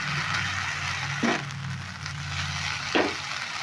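A spiced fuchka mixture being stirred and fried in a pan, with a steady close sizzle and a couple of brief scraping strokes of the spoon.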